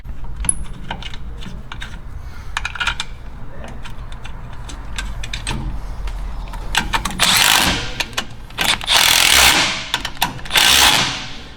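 Wrench clicking and rattling while 13 mm bolts are tightened on a brake valve bracket of a first-generation Toyota Tacoma during a rear leaf spring install, with bursts of quick ratcheting and metallic clatter close by, growing denser toward the end.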